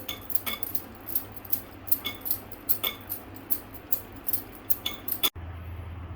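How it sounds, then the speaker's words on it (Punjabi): A spoon whisking dahi bhalla batter in a bowl, a fast, regular run of close clinking strokes against the side that stops abruptly near the end. "ਹੁਣ ਇਹਨੂੰ 15 ਮਿੰਟ ਫੈਂਟਾਂਗੇ"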